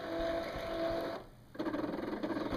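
An electronic cutting machine cuts a paper window card with a steady mechanical whir. The motor drops briefly, then resumes with a rapid pulsing buzz, close and continuous.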